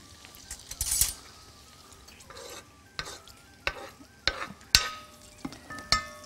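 Onions sprinkled with salt and black pepper fry in a pan, with a soft sizzle under sharp, irregular scrapes and clinks of a utensil stirring against the pan, close and fairly quiet.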